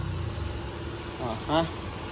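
A Toyota RAV4 hybrid SUV idles with a low, steady engine hum, close and continuous, while a voice briefly speaks over it.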